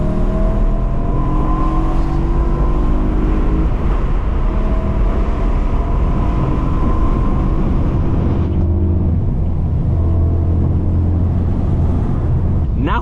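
A manual BMW E92 M3 with its 4.0L V8 pulls hard under acceleration, a loud, steady engine drone heard from inside the cabin that holds strong before easing off near the end, with some faint talk in the background.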